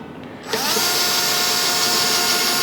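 A power drill kicks in and runs steadily as a bolt is driven into a circular table base. The whine is close and loud and holds for about two seconds after a brief lead-in.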